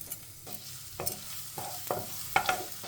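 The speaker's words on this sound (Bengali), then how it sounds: "ঘিটা মেল্ট হয়ে গেলে ওর মধ্যে দিয়ে দিলাম কিছুটা গ্রেটেড রসুন" Grated garlic fries in melted ghee with a bright, steady sizzle, and a spoon scrapes and stirs it in a series of short strokes.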